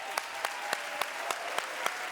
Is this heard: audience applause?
yes